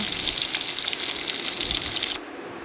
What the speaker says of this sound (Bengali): এবার মাছগুলো দিয়ে দিলাম একে একে ভাজার জন্য।